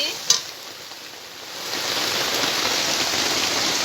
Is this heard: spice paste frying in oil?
yes